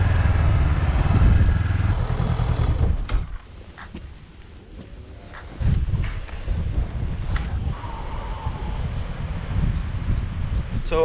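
A Honda CB500X motorcycle is ridden solo across flat Dutch countryside, its engine a steady low drone heavily masked by loud, buffeting wind noise, easing briefly before building again.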